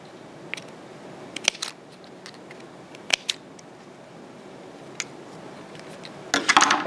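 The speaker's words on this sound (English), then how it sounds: "I'm going to take my scissors, and we need to sort of cut little grooves into it" Scissors snip little grooves into paper for a paper-city model: scattered, sharp, close cuts spaced irregularly, with a denser flurry of rustling and snipping at the end.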